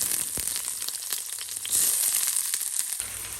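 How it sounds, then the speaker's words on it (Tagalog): Onion fries in hot oil in a pan while Hokkien mee is being cooked, giving a steady close sizzle with a few soft stirring scrapes and no talk over it. "nagisa na natin or na-fry na natin ang onion sa garlic"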